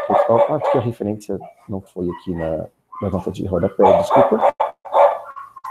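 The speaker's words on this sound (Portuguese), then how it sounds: "Peço desculpas pelo meu cachorro que está latindo ali também." A pet dog barking indoors at home, its intermittent barks partly buried under someone speaking Portuguese throughout.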